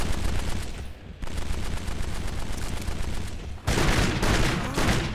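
Gunfire from the video game Kane & Lynch: Dead Men roars continuously and loudly, dense rapid bursts of shots layered into a sustained fusillade with a brief dip partway through.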